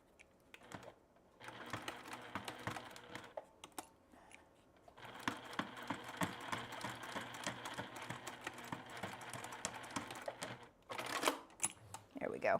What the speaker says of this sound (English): We're just going to kind of come and sew over it.